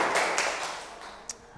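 Children clapping in a classroom during a physical education lesson, a short burst of scattered hand claps with a few sharp louder slaps, fairly close, fading quickly after the first moments.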